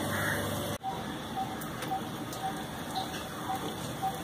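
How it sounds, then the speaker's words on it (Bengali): Pointed gourd (potol) pieces go one by one into hot oil left over from browning onions in a pan, giving a steady broadband frying sizzle with faint crackles, preceded by a brief hush as they drop in. "পটলগুলো এক এক করে তেলটার মধ্যে দিয়ে দেব।"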